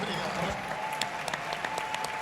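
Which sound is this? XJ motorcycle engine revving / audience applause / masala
audience applause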